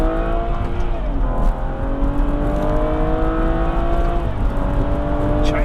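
A BMW M135i pulls hard under acceleration as its single-clutch gearbox snaps through quick upshifts. The engine note climbs steadily and dips briefly at each of the two shifts, staying loud and close throughout.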